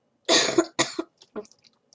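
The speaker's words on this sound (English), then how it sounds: "Sorry, I have a cough." Two sharp coughs close together, followed by a few softer throat-clearing sounds, during Minecraft gameplay.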